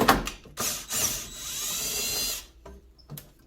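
A power screwdriver backing out a 1/4-inch screw from the control board cover of an Amana PTAC heat pump, a close whirring drill burst of about two seconds with short clicks before and after.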